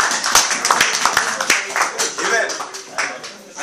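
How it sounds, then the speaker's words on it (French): A church congregation claps together in praise of the Lord, producing dense, sharp hand claps that run throughout at a lively pace, with voices talking and calling out underneath the applause. "Acclamons pour le Seigneur"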